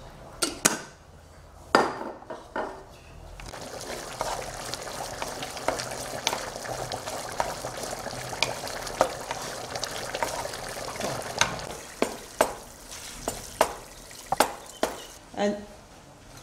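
Garlic, salt and spices hit a little oil in a pan for a lasagna sauce and sizzle steadily throughout, with sharp clinks of a utensil against the pan scattered over the hiss.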